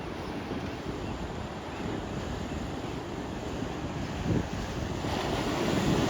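Ocean waves rolling onto a beach where surfers are riding, heard as a continuous low rumbling wash under steady wind buffeting the microphone, swelling slightly louder toward the end.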